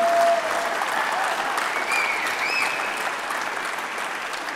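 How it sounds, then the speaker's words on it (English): Audience at a museum exhibition launch applauds a speaker, a loud continuous wash of many hands clapping with a few faint whistle-like tones above it, slowly tapering. "Give him another clap."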